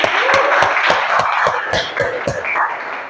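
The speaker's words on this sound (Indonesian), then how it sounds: "Oke, aplaus untuk Bang Dalvin ya." Audience applause at an Indonesian networking class presentation, a steady dense patter of hand claps from a room of people that carries on for a few seconds, with a few sharper claps standing out.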